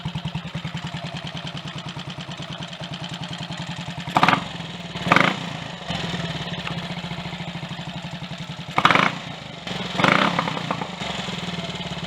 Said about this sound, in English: I'm not going to bore everybody with me just standing here revving the engine for the next 10 minutes or whatever.